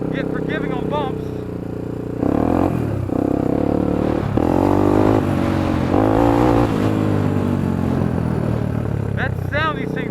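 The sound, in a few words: Honda 300EX ATV engine revving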